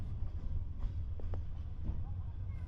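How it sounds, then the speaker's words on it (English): A passenger train rolls into Semey station in Kazakhstan, a low steady rumble with a few faint clanks and squeaks over it, heard from inside the carriage. "here we are arriving into the station in Semey, bang on time to the minute at 11:45"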